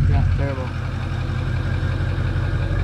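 A Ford F250 truck engine runs at high idle with the emergency brake set, a steady low rumble throughout with a brief faint tone near the start.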